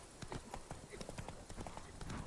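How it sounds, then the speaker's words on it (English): Roach, the horse in The Witcher 3, gallops in a quick, rhythmic run of clip-clop hoofbeats, fairly faint and steady throughout. "Oh my gosh, my horse is losing his mind."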